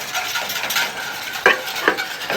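A whisk scrapes and clinks in a pan as cold butter mixture is beaten into hot liquid for a beurre blanc. Short stirring strokes sound close and moderately loud, with a couple of sharper metallic taps and no talk.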